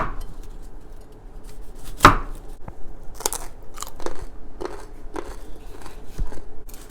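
A kitchen knife slices through peeled carrot on a cutting board, giving a few crisp, close chopping crunches spaced irregularly between quieter handling noises, with no talking.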